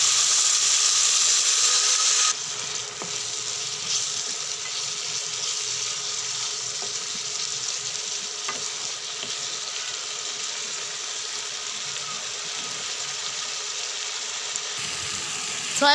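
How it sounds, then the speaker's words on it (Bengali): Water is poured into a pan of frying soybean chunks and masala, a brief splashing burst followed by a steady sizzling hiss that carries on alone. "সামান্য একটু পানি দেব কষানোর জন্য।"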